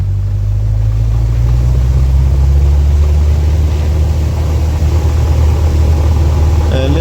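The twin engines of a Cessna aircraft run loudly before takeoff, with a steady low drone and rumble that holds throughout, heard from inside the cabin.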